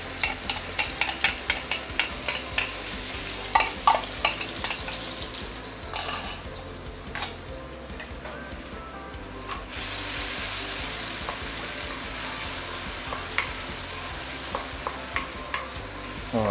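Sambal chili paste sizzles steadily in oil that is slightly too hot while the cook prepares sambal petai prawns, broken by sharp clacks and scrapes of a utensil stirring against the pan.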